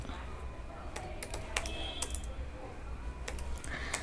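HTML list code being typed on a computer keyboard, with irregular bursts of crisp key clicks and brief pauses between them, close up and fairly quiet.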